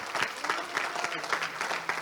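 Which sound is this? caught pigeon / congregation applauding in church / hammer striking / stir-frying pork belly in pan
congregation applauding in church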